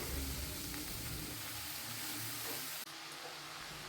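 Cleaned, chopped greens hit a pan of chillies and tomatoes frying in a little oil, giving a soft, close sizzle that quietens after a few seconds.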